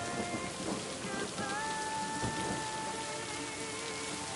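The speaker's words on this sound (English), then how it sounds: "the sound effects for the thunder is coming from different places depending on where the lightning was and stuff." Rain and thunder in the video game Lake: a dense, steady hiss of falling rain with low rumbles underneath and faint sustained tones over the top. The sound stays close and even throughout, with no talk.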